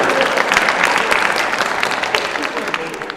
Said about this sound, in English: That's kind of weak applause.